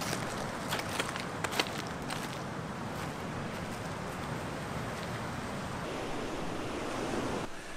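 Ocean waves wash onto a beach on Hawaii's Big Island, a broad, steady surf hiss with some wind, a few faint clicks near the start, and no talk.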